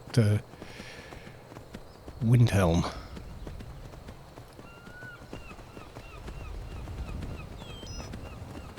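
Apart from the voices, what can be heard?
horse hooves while riding in Skyrim, video game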